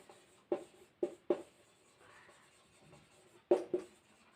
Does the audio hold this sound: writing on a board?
yes